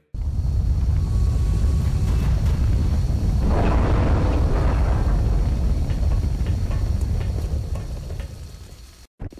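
Explosion damaging a bridge in the video game XCOM Enemy Within, a loud sustained rumbling blast with crackling debris that swells midway and slowly fades, heard alone.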